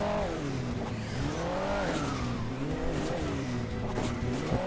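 A car in Hill Climb Racing 2 drives over a log, its engine droning steadily with rising and falling revs, loud and continuous throughout.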